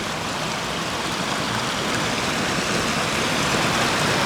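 A cold mountain stream in the Swiss Alps flows with a loud, steady broadband rush of water that stays constant and close throughout, with no voices.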